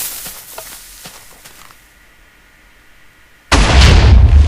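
A firework cannon in Minecraft goes off with a sudden loud blast after a short lull, preceded by a few clicks, and the roar of the explosion sustains to the end.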